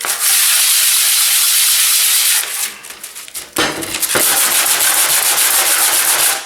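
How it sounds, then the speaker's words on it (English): Sandpaper rubs hard against a rusted knife blade in a loud, continuous rasp up close, with a brief break midway before the steady back-and-forth scraping resumes. "And now I'll go back to my piece of sandpaper."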